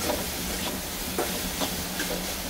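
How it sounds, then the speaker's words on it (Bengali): Soybean chunks fry in a pan with salt and turmeric, giving a steady close sizzle and hiss with faint stirring scrapes and no talking. "তো সয়াবিনটা 2-4 মিনিট আমি ভাজা করে নেব"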